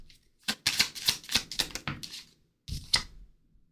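Tarot cards are shuffled by hand in a quiet room, giving a run of crisp, papery riffles and taps in quick bursts, a pause, then one more short burst.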